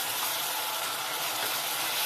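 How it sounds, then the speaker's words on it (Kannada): Onion paste fries in hot oil with a steady, even hiss and sizzle, close and unbroken. "ಕಾದಿದ ತಕ್ಷಣ ಈರುಳ್ಳಿ ಪೇಸ್ಟ್ ಹಾಕ್ತೀನಿ. ಇದು ಸ್ವಲ್ಪ 1-2 ನಿಮಿಷ ಫ್ರೈ ಆಗಲಿ"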